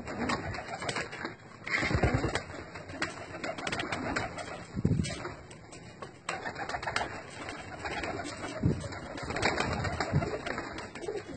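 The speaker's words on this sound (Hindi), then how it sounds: "ये हमारे सारे कबूतर हैं," Domestic pigeons coo steadily and close by for several seconds, layered soft throaty calls overlapping with occasional light wing flutters and no talk.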